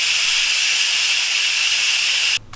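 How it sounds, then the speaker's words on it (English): A pressure cooker's quick-release vent blasts steam in a loud, close, steady hiss that cuts off abruptly near the end, leaving only faint room sound. "So you go to the steam release vent. I use a towel because there's going to be steam coming out of here."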